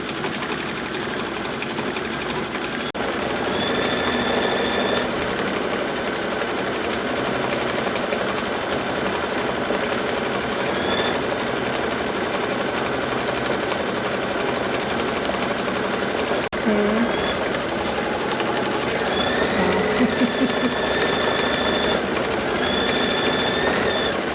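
Embroidery sewing machine stitching quilting across three fabric strips, a steady mechanical whir and rapid needle chatter running continuously at moderate volume, with occasional faint higher tones and brief clicks.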